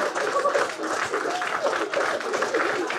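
An audience at a stand-up comedy show claps and applauds steadily for a few seconds, a dense wash of many hands with faint laughter mixed in.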